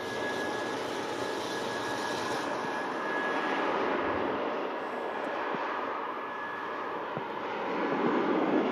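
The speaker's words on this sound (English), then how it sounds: "Scandinavian Airbus A380 just rolling there on the south side." Scandinavian Airbus A380 jet taxiing on the south side of Manchester airport, a steady broadband engine roar heard from a distance, swelling slightly toward the end, with no voices.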